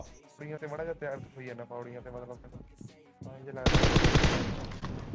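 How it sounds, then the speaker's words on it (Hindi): A voice talks, then a sustained burst of rapid automatic gunfire from PUBG Mobile erupts and rattles on loudly to the end. "मैं उस बंदे के बगल पे गोली चलाता हूँ"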